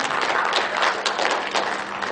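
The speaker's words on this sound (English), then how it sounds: "So a big round of applause, please." Audience applause at a GST quiz event held indoors, a steady dense wash of many hands clapping at close range, continuous for about two seconds with no clear breaks.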